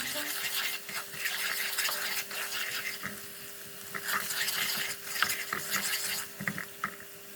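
Tomato and pepper paste sautéing in oil, a faint close sizzle with repeated scraping and stirring of a spoon against the pan, no talking.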